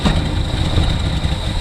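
A carbureted hot rod engine that has just fired up runs loud and close at a rough, steady idle, with a throaty low rumble and a thin high whine above it.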